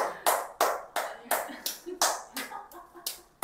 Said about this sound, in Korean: 이건 유지민 씨의 건강 박수입니다.